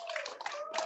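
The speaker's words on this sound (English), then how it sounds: "Your applause, please." An audience at a stage presentation gives a brief burst of clapping, heard against a steady ringing tone in the room.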